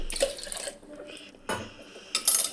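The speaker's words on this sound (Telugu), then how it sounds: "ఇలా ఒక 2 సార్లు ఈ కందిపప్పును కడుక్కోవాలి" Toor dal lentils being rinsed in water in a home kitchen, with splashing and sloshing in short bursts and a light clink of a vessel, close and fairly quiet.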